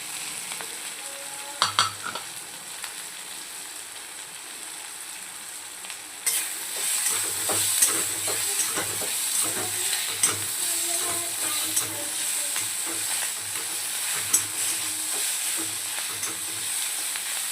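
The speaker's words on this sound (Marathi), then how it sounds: "आपण इथे छानपैकी परतून घेऊया" Bitter gourd sautéing in a pan with crushed chili paste for karela sabzi, a steady close sizzle that grows louder partway through, with scraping stir strokes scattered throughout and no talk.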